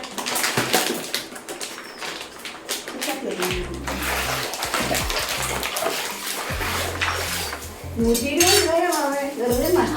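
Pots from yesterday's curries clatter and scrape in a home kitchen sink alongside running water, with metallic clinks, while someone talks over the handling and birds call faintly.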